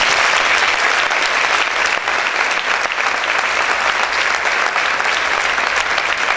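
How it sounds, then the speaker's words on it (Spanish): A church congregation applauds loudly and continuously, a thick, steady roar of many hands clapping together without pause from start to finish. "Aplaude fuerte."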